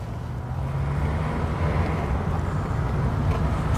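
A 1992 Rover Metro 1.1S drives along with its small engine humming low and steady beneath broad road and wind rumble inside the cabin, quiet and unbroken, with no talking.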